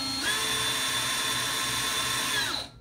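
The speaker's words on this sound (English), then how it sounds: "So if you take a cordless drill, no bit, I can load my pencil in" A cordless drill with no bit, a pencil clamped in its chuck, whirs up to a steady high-pitched whine, holds it close and loud, then winds down at the end.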